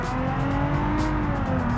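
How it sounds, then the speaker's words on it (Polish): A 3.5-litre V6 engine drones loud and steady in a BeamNG driving game, its tone rising and falling slightly as it revs, with no talking over it. "Tak, nawet brzmi jak V6"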